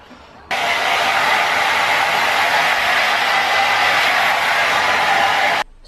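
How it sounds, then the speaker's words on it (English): A hair dryer blowing hair switches on and runs as a steady, loud, broadband whoosh for several seconds without change, then cuts off abruptly near the end. "But let us blow dry some hair."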